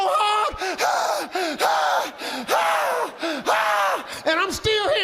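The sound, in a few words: comedian imitating heavy out-of-breath gasping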